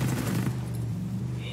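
A quick burst of rapid automatic gunfire rattles out in the Ghost Recon video game, crackling for about half a second before fading into a low steady hum.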